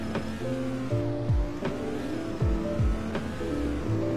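A car engine revs and hums in the Roblox game Greenville, with shifting synthetic engine tones and a few descending whooshes, fairly loud and without talk.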